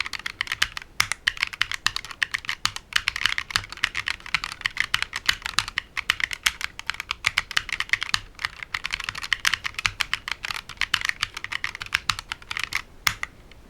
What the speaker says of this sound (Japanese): キースイッチがむき出しになっているためか、とても軽快で心地よい音が出ますね。